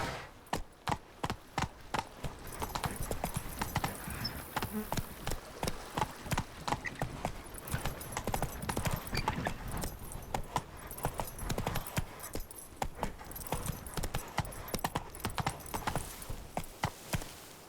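Roach the horse trots in The Witcher 3, a steady run of clip-clop hoofbeats close by throughout, with a faint voice urging the horse on at moments.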